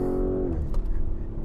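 A 2021 Lamborghini Urus V8 pulls under hard acceleration, a loud steady engine roar whose pitch sweeps and shifts as it gains speed, heard from close by without talk.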